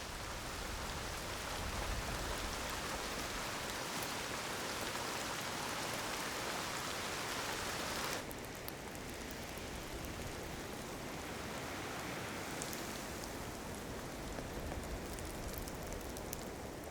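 Rain falls steadily at Odagahara, an even, unbroken hiss of drops that continues alone for the whole stretch, its texture changing slightly midway.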